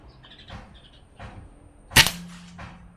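A single sharp, close crack from a GCMAG BR air rifle firing at a cardboard target, briefly ringing afterward, with faint chirps and quiet surroundings before and after.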